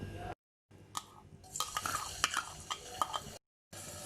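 Ginger paste and finely chopped garlic sizzle in about two tablespoons of hot oil for a chicken vegetable soup, with a soft frying hiss broken by spoon stirring and scraping in the pan, quiet and close, with brief silent gaps.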